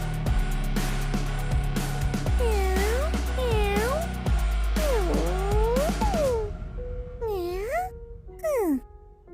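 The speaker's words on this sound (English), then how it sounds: "Kitten." A kitten meows repeatedly, several rising and falling cries close by, heard over steady background music with a sharp pair of final mews at the end.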